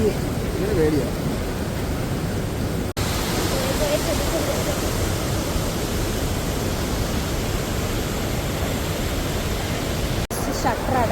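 Steady, loud rush of water pouring through a dam near Sooranad runs the whole clip as a broad continuous roar, with brief cuts at two points and faint voices beneath.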